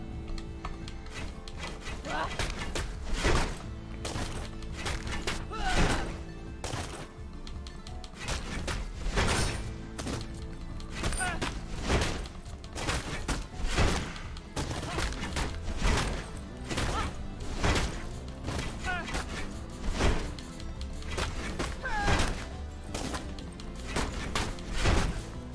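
Rapid melee attacks in the Full Metal Furies video game, a dense run of sharp smashing and thudding hits repeating steadily over busy game background sound.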